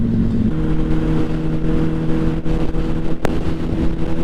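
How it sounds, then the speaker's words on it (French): Inside a car cruising on a motorway at 90 km/h, a steady, loud low drone of engine and road noise carries a light rush of wind, with no talk. "On entend quand tout petit peu de vent quand même"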